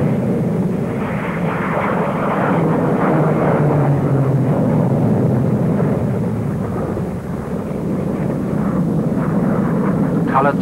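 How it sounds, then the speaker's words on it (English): Royal Navy Sea Hawk jets flying an aerobatic team display at the Farnborough air show, a loud continuous rumbling jet roar that swells and holds, with faint voices in the background. "Sheer spectacle, the Navy's aerobatic team of seahawks."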